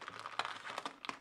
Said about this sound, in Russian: Пришел у меня маленький пакетик, довольно-таки тонкий.